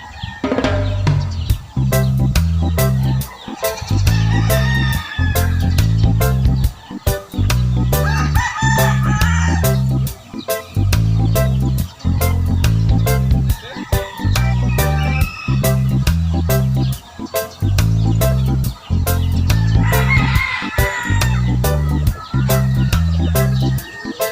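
Gamecocks kept for cockfighting crow loudly and repeatedly at close range, a string of drawn-out cock-a-doodle-doo calls answering one another with clucking in between.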